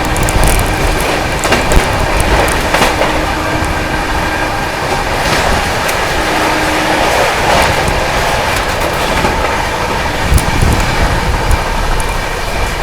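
Duronto Express 22209, Mumbai Central to Nizamuddin, racing at speed through Faridabad without stopping: a steady loud rumble of wheels and carriage noise with faint clickety-clack runs continuously throughout, no voices.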